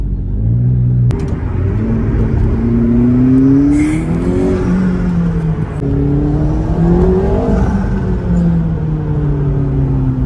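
Turbocharged engine of a limited-production McLaren accelerating, a loud continuous rumbling roar with rising and falling pitch across repeated pulls, close and steady with no talk.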